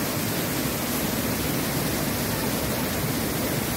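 Jibhi waterfall, a dense, continuous roar of falling water that fills the space evenly and steadily, with no pauses or other sounds.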